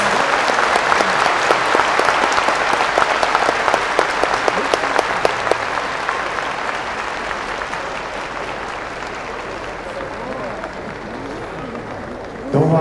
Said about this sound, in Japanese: 皆さんもう一度大きな拍手をお願いいたします。